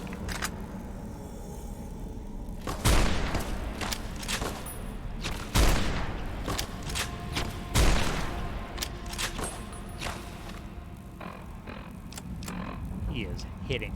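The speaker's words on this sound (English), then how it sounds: "we'll try the anti-material rifle here" An anti-materiel rifle firing in Fallout New Vegas Honest Hearts, three heavy booming shots spaced a couple of seconds apart over a background of smaller gunfire and clatter, with a voice talking through much of it.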